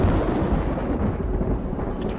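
A thunderstorm in the video game Destiny gives off a loud, continuous low rumble of thunder that rolls steadily throughout with no break and no talking.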